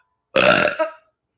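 A single loud, close burp from a person, a short throaty gurgle with a brief second push at the end, alone in silence.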